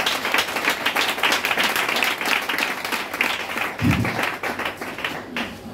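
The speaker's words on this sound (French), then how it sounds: "Acclame puissamment le Seigneur." A French-speaking church congregation applauds for the Lord: dense, loud, sustained clapping from a large crowd, unbroken throughout with a single dull thump near the end.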